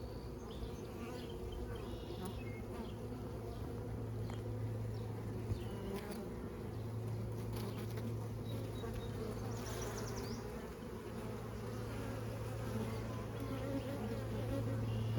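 Honeybees swarm around an open beehive, their steady droning buzz continuous and close, with a low hum underneath and faint handling noises now and then.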